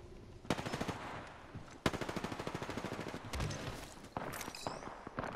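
Apex Legends gunfire fills the scene: rapid automatic bursts of evenly spaced shots, loud and close, with a long sustained burst in the middle and scattered single shots and clicks around it.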